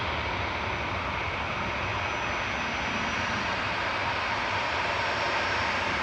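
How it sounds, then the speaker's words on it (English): A Gulf Air Boeing 787-9 airliner touches down on runway 23 at Manchester Airport, heard as a steady, loud, broad jet roar that holds without a break, with no voices over it. "Just touching down on a 23 right now is Gulf Air Flight 5 from Bahrain"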